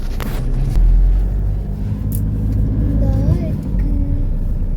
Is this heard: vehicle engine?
yes